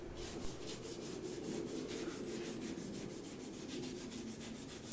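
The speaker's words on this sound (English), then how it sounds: "Use a rag with adhesive remover to clean the mating surface of the crankcase." A rag damp with adhesive remover is rubbed back and forth over the crankcase mating surface of an MWS pump, making a faint, continuous scrubbing swish with soft repeated strokes and no talking.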